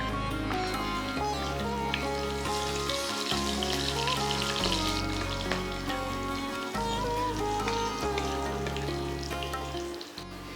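Chopped ginger and slit green chillies fry in hot oil with cumin seeds, giving a continuous close sizzle that runs beneath steady background music.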